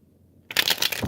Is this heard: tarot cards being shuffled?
yes